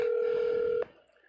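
A phone line tone rings steadily while waiting for a callback to be answered, one sustained electronic tone that cuts off abruptly under a second in, leaving faint low room noise.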